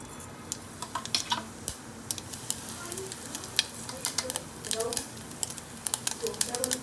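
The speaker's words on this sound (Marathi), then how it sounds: "भाजी पटकन फोडणीला टाकते" Vegetables drop into hot tempering oil in a home kitchen and sizzle loudly and steadily, with scattered sharp crackles and spatters close by, and a voice talks over the frying at times.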